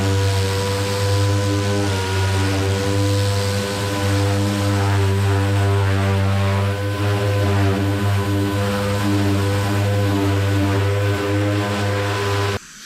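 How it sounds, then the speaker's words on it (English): Dual action sander with 80 grit sandpaper working over a rusted car roof, a loud steady droning whine with strong harmonic tones that holds continuously and close by for the whole stretch, cutting off right at the end. "I've gone over the entire roof with my DA and the 80 grit sandpaper"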